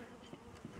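Steady, close buzzing of bees humming around a hive, a dense continuous drone with small swells in loudness.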